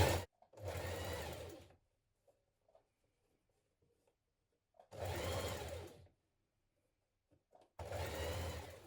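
Sewing machine running a narrow double-fold hem on a blouse, three separate bursts of even whirring stitching with quiet pauses between.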